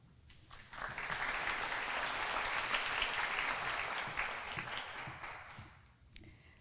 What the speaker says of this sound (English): Can we give another round of applause to the Carter family?